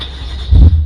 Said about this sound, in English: So if I turn the car on